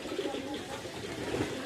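Pigeons cooing near a rooftop loft where some birds sit on the roof and others fly above, a soft continuous murmur of coos without voices.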